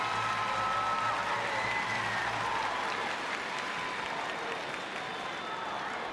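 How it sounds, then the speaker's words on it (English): Football supporters in a stadium applaud before kickoff at a women's Euro group match between France and England, a broad, steady wash of clapping and crowd noise, fairly distant and unbroken. "Applauded by the supporters."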